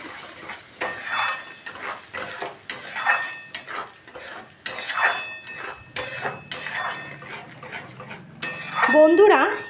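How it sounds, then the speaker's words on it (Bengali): Ivy gourd stirred with turmeric in a pan, the spoon scraping and clanking against the metal in repeated irregular strokes, close and fairly loud, with a light sizzle underneath. "এইবারে ভালো করে আমি এটাকে কষিয়ে নিচ্ছি।"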